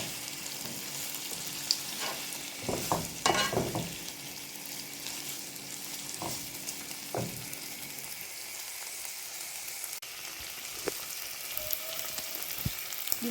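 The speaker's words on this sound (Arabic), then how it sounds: "بتقليبة كده مع البصل." Onions fry in a pan with a steady close sizzle while a utensil stirs them, giving scattered scraping knocks that cluster early and recur sparsely over the constant hiss.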